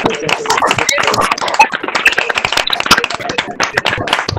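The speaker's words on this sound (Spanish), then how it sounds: "les pediría a todas y a todos si me ayudan a abrir dando un aplauso a la magistrada" An audience applauds a magistrate with scattered, uneven hand claps that sound fairly close and loud, with some crowd voices mixed in throughout.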